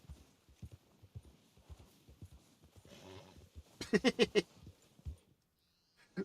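Horse hooves clip-clopping in the video game Red Dead Redemption 2: a steady rhythm of hoofbeats, then a short snorting whinny-like burst, with faint background sounds and no clear talk.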